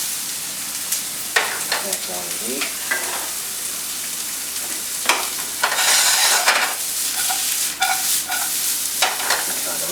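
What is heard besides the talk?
onions and ground beef sizzling in hot saute pan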